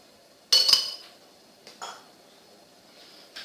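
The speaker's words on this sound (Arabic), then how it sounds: "كناخذ المقله كنديرها فوق البوطه" A metal frying pan set down on a gas stove gives a loud clanking clatter, then a few softer knocks and clinks follow alone in a quiet kitchen.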